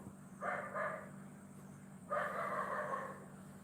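Two bursts of dog barking, a quick pair followed by a longer run, over a steady low hum, moderately distant.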